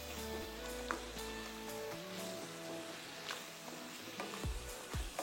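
Minced meat keema with coriander powder and other spices sizzling gently in a pan, a soft crackle with a few stirring scrapes near the end, faint and close, no voices.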